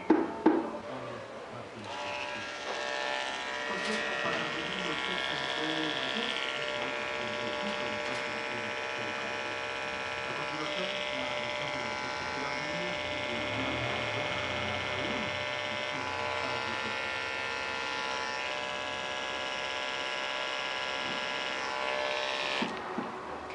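Electric clippers buzz steadily and close up for about twenty seconds as they trim the fur at the corners of a poodle mix's eyes, with a few brief shifts in pitch as the blade moves.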